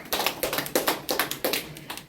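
A press-conference audience applauds, a dense run of hand claps with sharp repeated peaks, moderately close and without speech, at a North Korean defectors' group event endorsing a Seoul education superintendent candidate.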